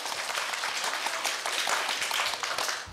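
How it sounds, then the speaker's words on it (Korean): Audience applause in a Korea University speech contest hall, steady dense clapping from a crowd filling the whole stretch at even loudness, without talk. "큰 박수 부탁드립니다."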